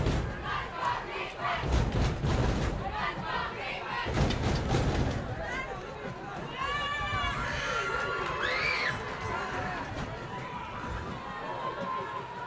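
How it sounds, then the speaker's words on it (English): A crowd at a high school varsity football game at Rancho Alamitos roars and shouts, loud and sustained, with a whistle and a few scattered shouts rising over the noise. "Rancho crowd now getting back into this game."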